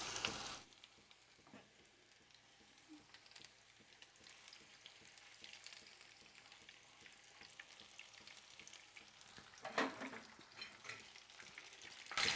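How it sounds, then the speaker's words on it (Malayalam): Onion rings frying in hot coconut oil in a frying pan give a steady close sizzle with faint stirring and a louder crackling burst partway through. "ഫ്രൈങ് പാൻ വെച്ച് ഫ്രൈ ചെയ്തിട്ട് വെളിച്ചെണ്ണ നല്ലോണം ചൂടായിട്ടുണ്ട്"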